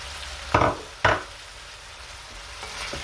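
Vegetables with smoked, sweet and spicy paprika, salt and pepper fry in a pan for beef stew, with two scraping stirs early on over a constant soft sizzle.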